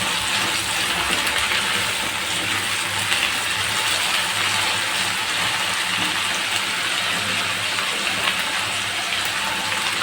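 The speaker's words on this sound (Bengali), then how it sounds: "এবার একটু পানি দিয়ে দেবো" Water being poured into a pot of egg biryani as it cooks, a steady loud gushing pour that runs unbroken for about ten seconds, close by with no talking over it.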